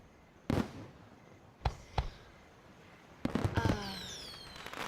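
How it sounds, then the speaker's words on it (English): Fourth of July fireworks in Chesapeake Shores go off as sharp, separate bangs, followed by a cluster of crackling bursts with whistling, descending tails. The display sounds moderately distant over a quiet outdoor background. "Fireworks. 4th of July in Chesapeake Shores."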